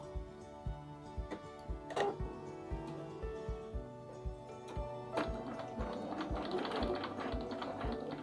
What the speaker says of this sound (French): Maintenant, je vais coudre au point droit